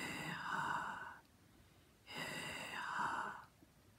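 A voice imitates heavy, scary panting, two long harsh breathy pants with a pause between, close and fairly loud, like a monster breathing through its mouth.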